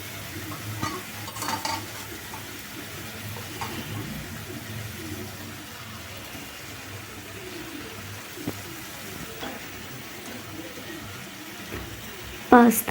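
Pasta frying in a pan, with quiet sizzling and occasional scraping stirs under faint background noise, and a brief clatter near the end.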